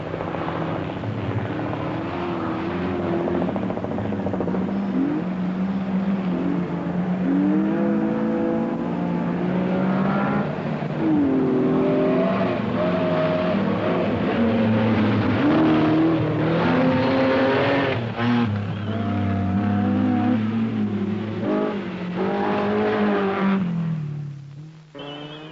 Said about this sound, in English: Andrew Cowan had been driving his Mercedes 280 saloon without power steering due to damage from rocks